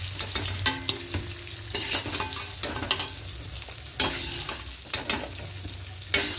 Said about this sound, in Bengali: প্রথমে পটলগুলো একটু লাল লাল করে ভেজে দেবো